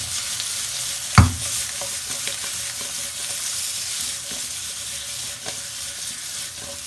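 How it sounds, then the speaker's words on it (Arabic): Onions and spices are stirred as they fry in a pan. A steady close sizzle runs throughout, with one sharp clunk of a utensil early on and faint scraping strokes after it, and no speech. "حرك واحد شويه"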